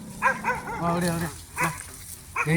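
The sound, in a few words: dog barking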